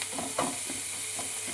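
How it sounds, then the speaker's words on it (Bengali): Onions fry in a pan, a soft sizzle with a few quick stirring scrapes of a spatula, close and brief. "এবার সমানে ভাজা ভাজা করতে হবে পেঁয়াজটাকে"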